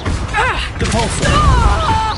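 Repulsor spell in Hogwarts Legacy: a short, loud whooshing burst with mechanical thumps and warbling tones, cast in the middle of busy combat as voices call out.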